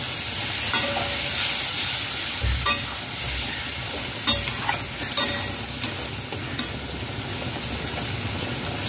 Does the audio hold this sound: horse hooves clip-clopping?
no